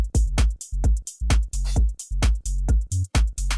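The second bass layer of a house track, heard alone: punchy, tightly chopped bass notes in a bouncing, syncopated pattern, loud and dry with short gaps between hits.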